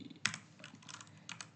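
Someone types a command on a computer keyboard, a handful of quiet, close key clicks spaced irregularly, one sharper tap near the start and a small cluster near the end, with no voices.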